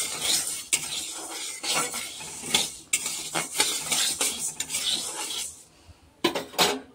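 A utensil scrapes and clinks against a dry pan as ingredients are stirred and dry-roasted, with a soft sizzle under irregular metallic strokes that pause briefly near the end.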